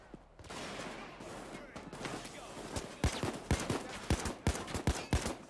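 Gunfire in the Payday 2 video game, with rapid sharp shots cracking in an irregular burst, loud and close, over a busy backdrop of game noise and voices.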